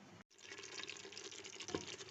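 Water is poured into a pressure cooker holding mutton for a black pepper mutton karahi, a steady close splashing pour after a brief gap at the start.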